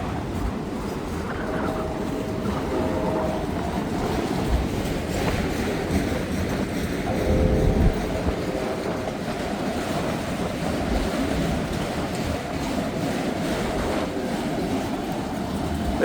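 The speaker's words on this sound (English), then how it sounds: "it sounds like we have a northbound coming" A northbound train passes on a cold, windy morning in Hamilton, a steady rumble with rhythmic clickety-clack of wagons on the rails, moderately close and continuous under wind noise.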